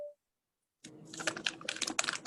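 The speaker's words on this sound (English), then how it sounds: "I don't know who's typing, but it's coming loud and clear." Keyboard typing coming through an open microphone during an online committee meeting, a quick burst of close, loud clattering keystrokes after a short tone and a silent gap, without any voices.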